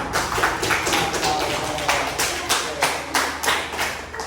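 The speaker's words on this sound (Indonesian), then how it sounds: "Oke, keren, tepuk tangan semuanya." A classroom of students claps hands together in a religious education lesson, a rhythmic, fairly close group clapping in roughly even beats with a faint voice underneath.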